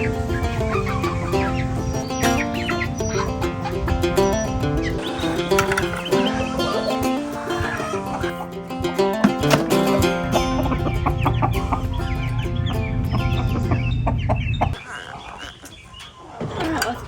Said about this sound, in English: That one for sure is a hen.